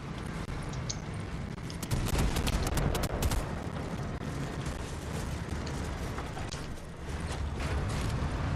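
Tank fight in the Fortnite video game: dense, steady clatter of mechanical rumble and bursts of gunfire, with a louder cluster of sharp shots early on, all continuous and close without speech.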